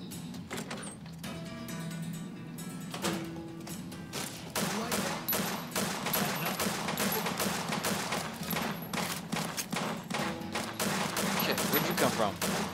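Rapid gunfire from a firefight in Fallout: New Vegas, dense bursts of shots running steadily through the clip over a continuous game soundscape, fairly loud and close.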